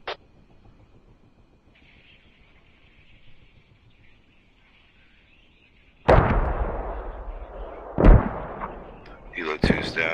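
Tank gunfire in the video game Squad: after a quiet stretch with faint background voices, loud close blasts erupt, with a heavy boom followed by two more sharp shots.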